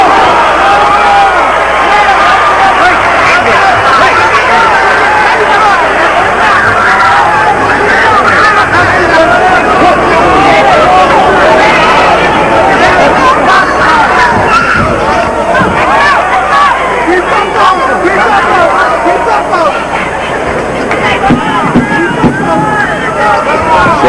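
A loud hometown boxing crowd cheers and roars continuously during a one-sided non-title fight between Roy Jones and Fermin Chirino, a dense, unbroken wall of cheering and babble with gusts of noise.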